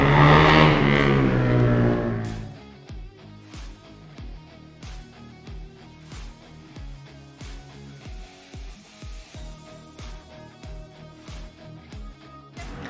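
A Honda NSR 150R two-stroke sport motorcycle on a race track, a loud engine roar fading after two seconds into a steady series of rhythmic revving bursts, pulsing about every half second.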